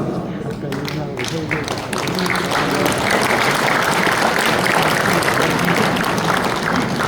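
An audience at a church men's association national convention applauds during introductions, a continuous bed of clapping that grows fuller after a couple of seconds, with talk faintly underneath.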